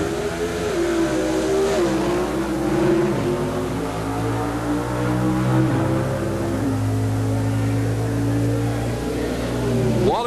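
Two drag race cars, an AMC Hornet X and an AMC Special, running at the 1976 NHRA World Finals: loud roaring engines that rise through gear changes and then hold a sustained high-revving drone, no talk.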